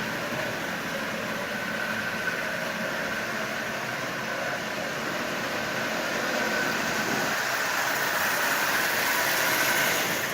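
Marx 999 toy locomotive's electric motor running steadily forward and then in reverse, a continuous even whir with a faint hiss, fairly close and alone without talk.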